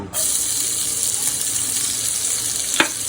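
Onions go into hot oil in a wok with a sudden loud sizzle that holds as a steady, close hiss, and a single sharp scrape sounds near the end.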